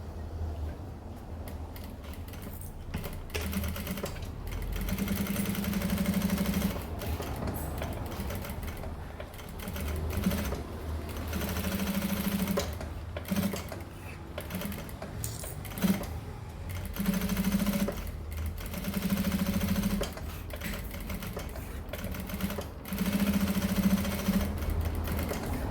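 A domestic sewing machine runs a short reinforcing seam on a fabric necessaire pocket, its motor whirring in several bursts of rapid stitching separated by pauses, close and moderately loud.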